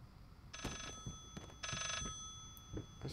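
An old telephone rings in a bright electronic trill inside the eerie house of the horror video game Layers of Fear, two long ring bursts separated by a pause, over dull thuds and footsteps.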